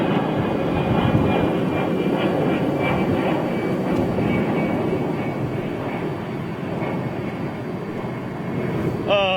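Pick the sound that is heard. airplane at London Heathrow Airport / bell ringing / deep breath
airplane at London Heathrow Airport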